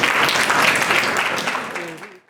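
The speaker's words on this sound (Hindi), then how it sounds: "मैं चाहूँगी टीचर के लिए भरपूर तालियां बजाएं।" Brief burst of applause for a teacher at a Sunday school session, a short dense patter of clapping that fades out after about two seconds.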